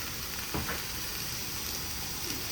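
Spices sizzling in hot oil as a tempering (chhonk) for a thin fish curry, a steady close frying hiss with a brief louder crackle partway through.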